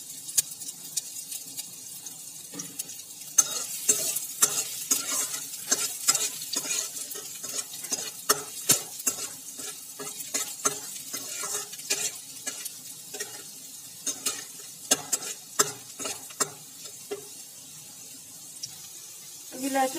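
Garlic, ginger and chilli fry in hot oil in a kadai, a steady close sizzle broken by frequent stirring scrapes and clatters across the whole stretch.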